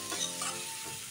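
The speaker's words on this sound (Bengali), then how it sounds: "এখন পাঁপড় ভাজাটা আমি দিয়ে দিচ্ছি লাউয়ের মধ্যে, দিয়ে ভালো করে আমি নেড়ে চেড়ে নেব" Bottle gourd with crushed fried papad being stirred in a pan over low flame, a brief scraping stir with soft sizzling underneath, close and steady.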